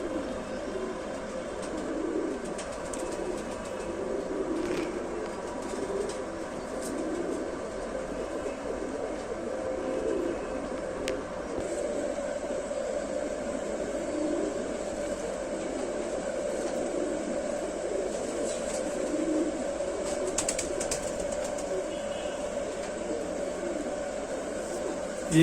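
Lal Sira pigeons cooing in a loft, a steady, close murmur of soft coos layered over one another for the whole stretch with no clear pauses.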